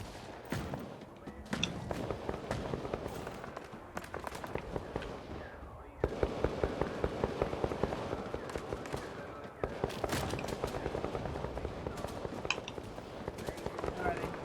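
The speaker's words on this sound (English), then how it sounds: "hearing a decent amount of gunfire, so be wary" Rapid bursts of gunfire crackle in the distance and nearby in Vampire: The Masquerade - Bloodhunt, repeated throughout over a busy game soundscape, with a voice talking now and then.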